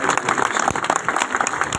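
A crowd claps in steady, dense applause at a bar association Diwali celebration, loud and close, filling the whole moment without pause.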